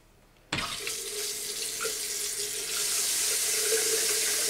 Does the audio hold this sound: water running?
yes